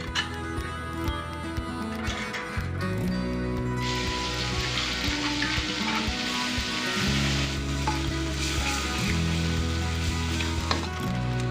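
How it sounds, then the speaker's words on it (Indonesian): Spice paste for spicy chicken liver and gizzard frying in a pan, a loud continuous sizzle with scraping stirring strokes through the middle, no talking. "Saya mau goreng bumbunya."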